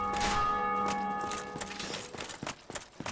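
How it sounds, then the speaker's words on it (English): A bell in Dark Souls Remastered rings out once with a bright, lingering tone that slowly decays, while thudding footsteps and clanks grow busier toward the end. "You'll occasionally hear the bell ring when other players in their own worlds ring it themselves."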